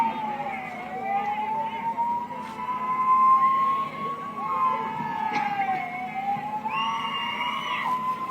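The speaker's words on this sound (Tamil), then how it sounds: "ஆம்புலன்ஸ் வருது, வழி விடுங்கப்பா." An ambulance siren wails through a crowded street at a political campaign rally in Mettupalayam, Coimbatore, its rising and falling tone loud and continuous over crowd noise and voices.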